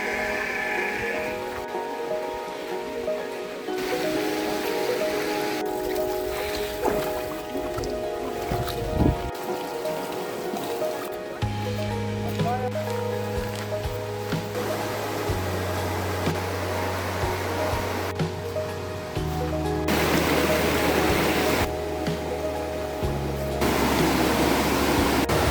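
Maden Creek in Sakarya, Turkey, flows as a steady broadband rush of stream water, continuous and fairly loud throughout, with low tonal hums drifting in and out beneath it.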